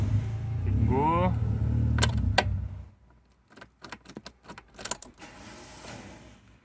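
A car with a faulty starter cranks and runs loudly for about three seconds, with a brief rising whine near the start. The engine then cuts to near silence, followed by scattered clicks and soft voices.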